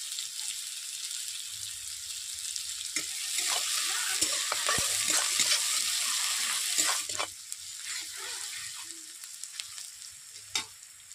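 Chopped onions sizzle steadily in a hot pan with a little salt for a chicken dish, a broad frying hiss punctuated by scraping stir strokes and clinks, swelling loudest mid-way, with no talking.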